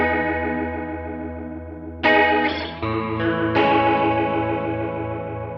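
An electric guitar runs through an HX Stomp vibrato effect with the rate all the way down and the depth turned up, giving sustained chords a slow warbling pitch sway, with a fresh strum midway, loud and alone.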